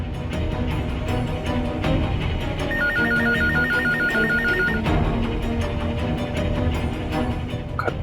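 A landline telephone rings with a rapid electronic trill for about two seconds over a busy background and goes unanswered.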